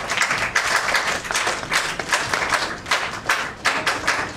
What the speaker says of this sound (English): Shall we clap for her?